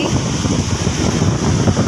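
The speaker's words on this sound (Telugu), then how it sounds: "గాలి మాత్రం మస్తు వస్తుంది" Strong wind gusts buffet an outdoor microphone in front of a house, a steady, loud rushing roar with no pause, and a light rain is starting.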